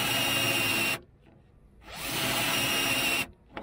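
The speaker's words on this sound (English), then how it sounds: "they're brilliant at drilling spot welds out" A power drill bores out spot welds on the rusty steel body of a 1989 Vogue SE. It gives two loud, steady whining bursts close up, with a short pause between them.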